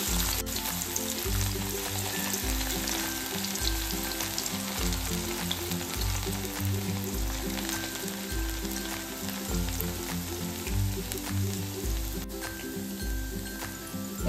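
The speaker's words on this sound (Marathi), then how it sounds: "एका साइडने ना छान फ्राय होऊन द्यायचे भजी आणि नंतर मग पलटून आपण ते सगळ्या बाजूने फ्राय करून घेणार आहोत।" Amaranth leaf fritters deep frying in hot peanut oil, giving a dense, continuous bubbling sizzle with a rhythmic low thumping beneath it, steady and close throughout.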